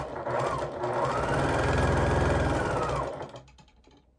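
A sewing machine runs fast and steady while stitching quilt pieces together, a close rapid whirring buzz that holds for about three seconds before winding down and stopping.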